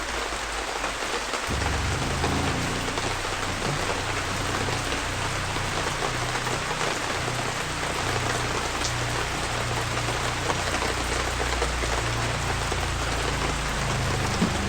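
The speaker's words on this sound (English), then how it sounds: "This is miserable in the rain." Steady rain falling hard on surfaces outdoors during a Class C Chateau Sprinter RV winterization, a dense, even hiss close by that holds throughout with no voices.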